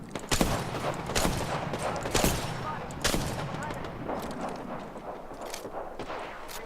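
Gunfire in Apex Legends, a run of loud, sharp shots fired in bursts about once a second, each cracking out over a busy game mix with some voice chatter underneath.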